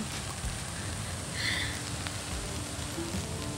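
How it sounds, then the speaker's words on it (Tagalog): Light rain patters in bright daylight, a soft steady wash of drops falling on surfaces with a few sharper, closer drips and no voices. "Pero nandiyan yung ulan. Patak-patak."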